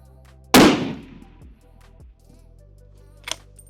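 A single sharp, loud rifle gunshot at a long-range steel gong cracks and decays quickly, followed by quieter clicks and a faint distant pop near the end.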